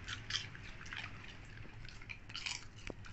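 Dogs crunch and chew popcorn close by, a steady run of small crisp bites and smacking sounds with a low hum beneath and no talk.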